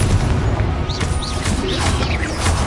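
Confringo explosive spell blast in the Hogwarts Legacy video game, a dense, loud rumbling burst of booming impact noise with crackling spell effects and whooshes layered on top, filling the whole moment.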